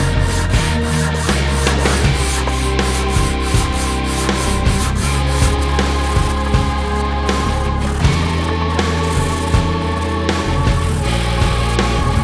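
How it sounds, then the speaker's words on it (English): Rhythmic back-and-forth sanding scrapes across the sealer coat of an SG-style guitar body, close and loud, in steady repeated strokes with no talking. "Some sanding is required."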